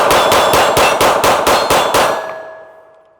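Empty pistol magazine dropping against a steel plate, a rapid series of about eight sharp metallic clangs at an even rhythm, followed by a ringing tone that fades away.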